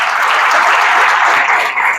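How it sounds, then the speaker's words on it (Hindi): A church congregation claps together in a loud, dense burst of applause that fills the room close by and stays steady for the whole moment. "प्रभु के लिए ताली बजा सकते हैं।"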